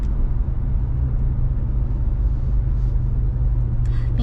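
Steady road traffic heard from inside a vehicle, a continuous low engine rumble and road hum that stays constant and fairly loud throughout, with no talking.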